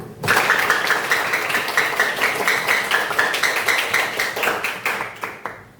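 A high school class in Wajo joins in a rhythmic patterned clap, the tepuk masyarakat, at the close of a lesson; many hands strike together in a fast, even beat for several seconds, then stop abruptly.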